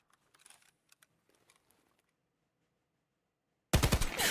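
Rapid gunfire bursts in a first-person shooter video game: faint scattered shots early on, then a loud, sustained volley near the end.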